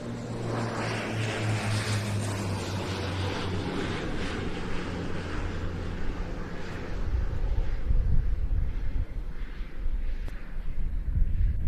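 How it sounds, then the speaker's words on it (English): A Mirage 2000-5 fighter jet of Escadron de Chasse 1-2 moves onto the runway at the Royal International Air Tattoo, its distant engine roar swelling into a louder, deeper rumble toward the end. "taking to the runway behind it, a Mirage 2000-5 from Escadron de Chasse 1-2"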